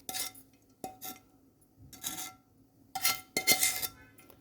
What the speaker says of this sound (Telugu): ఆ పోపు వేసేస్తున్నాను.